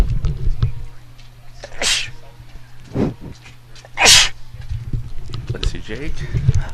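A person sneezes twice, loud and close, with a small sharp burst between them, at an indoor sporting event amid background murmur and clatter.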